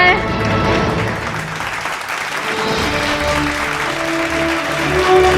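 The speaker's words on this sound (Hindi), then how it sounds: "जोरदार तालियां हो जाए।" Loud, sustained applause from a large crowd, with music and indistinct voices running underneath throughout.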